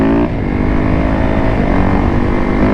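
A 750cc sport bike motorcycle engine holding a loud, steady, harmonic drone close by, with a slight pitch shift near the start.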